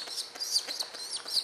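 A rescued baby pigeon gives a rapid series of thin, high chirps and peeps, close and fairly loud, repeating several times in quick succession with no talking.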